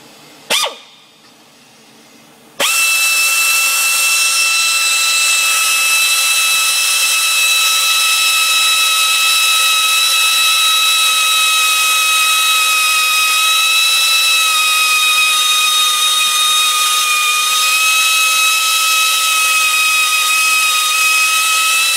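A brief burst of noise, then a loud, steady high-pitched mechanical whine that holds for about twenty seconds without a break, like a motor running continuously, as a drill works on the chain cover of a 1964 Mustang 289 engine.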